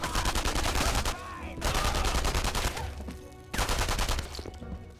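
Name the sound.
gunfire in the video game Enemy Front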